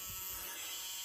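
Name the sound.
small hobby drill making holes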